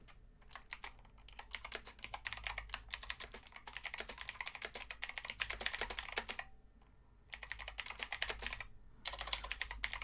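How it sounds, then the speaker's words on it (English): Steady typing on a computer keyboard, with dense clattering keystrokes in fast bursts separated by two short pauses, close and clear with no talking. "You might hear my keyboard"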